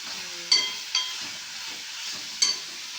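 Chicken liver gravy sautéing in a pan: a steady, soft sizzle and hiss, broken by a few sharp clinks and scrapes of stirring, with no voices.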